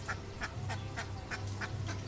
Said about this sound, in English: I've been trying to interview the ducks.